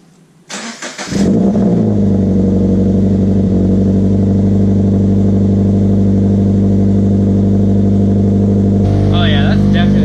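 A Scion FR-S with stock headers, a catless front pipe and a deleted muffler starts up, then holds a loud, raspy, steady idle-to-rev drone close by, with a voice briefly heard near the end.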